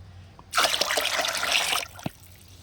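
A liter of water poured into a homemade plant fertilizer mix, a steady close splashing gush lasting just over a second, then a single drip, with no talk.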